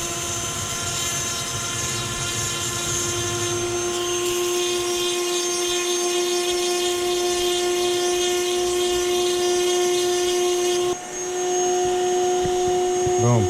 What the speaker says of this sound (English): So what we're going to do is we're just going to polish the inside of that just a little bit.